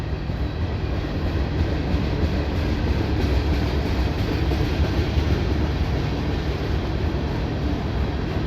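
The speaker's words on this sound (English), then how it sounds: "Runaway juice train" A long CSX freight train rumbles past close by in Ohio, a steady heavy roar of wheels and rail noise that holds constant throughout with no voices.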